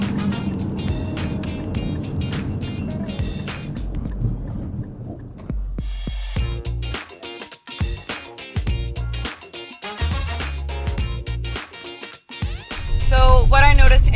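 A 2022 Infiniti QX55 rolls along a dirt road, its tyres and suspension giving a continuous rumbling crunch with shifting gravelly texture and a few brief interior knocks, heard from inside the cabin at a steady moderate level.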